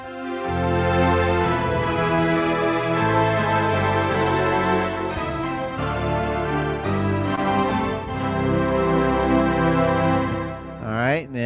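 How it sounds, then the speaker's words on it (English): A keyboard's symphony orchestra sound: a full, sustained swell of strings and brass tones, rich and steady, ending with a quick rising flourish. "Or this symphony sound."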